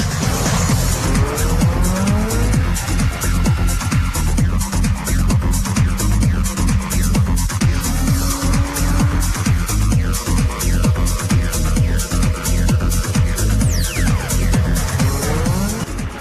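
A Lamborghini sports car driven hard roars loudly and continuously, its engine revving and shifting while tires squeal and skid repeatedly, close and dominant throughout.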